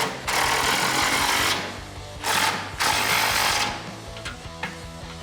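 A ratcheting tool with a 19mm socket tightens a bolt holding the front bumper of a 2016-2018 Chevrolet Silverado 1500 to its bracket, close loud buzzing bursts separated by short gaps.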